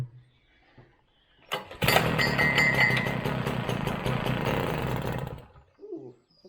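A vintage petrol tiller engine with the choke closed is pulled over and fires, roaring loudly and raggedly up close for a few seconds before cutting out.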